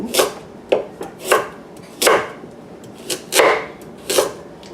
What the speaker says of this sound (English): I'm going to go ahead and chop these up like so